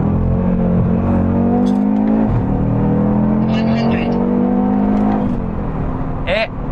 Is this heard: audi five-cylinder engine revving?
yes